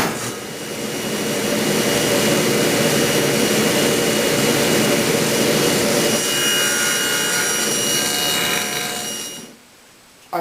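A table saw, blade raised to cut off a waste piece on a wooden leg stretcher tenon, roars in a loud continuous broadband whine for about nine seconds, then winds down and drops away, close and alone.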